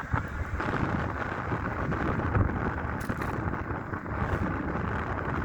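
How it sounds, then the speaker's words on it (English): Strong wind roars steadily across the microphone during a fast bike ride at around 40 miles an hour, a continuous rumbling buffet with no speech. "Wind is way too strong."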